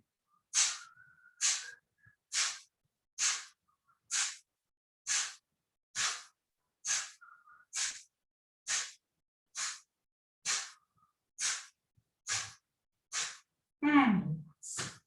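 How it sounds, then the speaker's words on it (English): Repeated forceful exhalations during a breathing exercise, about fourteen sharp, evenly spaced breaths pushed out roughly once a second, close and clear with silence between them, ending in a longer, rougher breath. "you're breathing out forcibly and throwing air to the ceiling"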